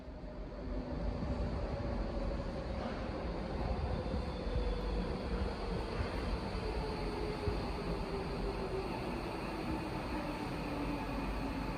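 A London train running from Greenwich to Bank station, heard from inside as a steady, continuous rumble and rolling hum with a faint rising whine, fairly loud and unbroken, with no voices.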